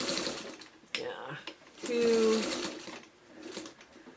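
Sewing machine stitching a quilted pot holder in short bursts, pausing to pivot with the needle down, with a louder whirring run in the middle and a person talking through much of it.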